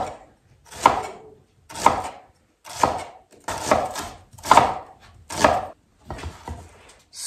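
A knife chops an onion thinly on a cutting board, landing in seven loud, evenly spaced strokes about one per second, each a crisp thud with a short scrape, close and alone.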